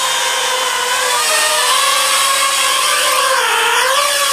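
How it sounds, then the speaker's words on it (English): A SimToo Moment drone takes off, its motors running at a loud, steady high-pitched whine with slowly wavering pitch, close by and continuous throughout, with no voices. "press takeoff, enter, and it will take off"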